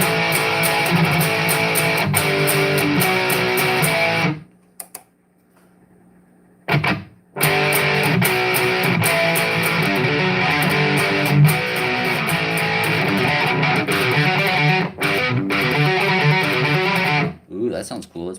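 Heavily distorted electric guitar plays loud and continuous through an amp, with a couple of short pauses where the sound cuts out before resuming.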